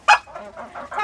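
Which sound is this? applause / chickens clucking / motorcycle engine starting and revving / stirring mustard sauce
chickens clucking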